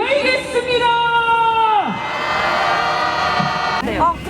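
A rally crowd marking the 30th anniversary of the Wednesday demonstration lets out a loud, rising collective shout and whoop that swells and falls away, then breaks into a burst of mixed cheering and voices near the end.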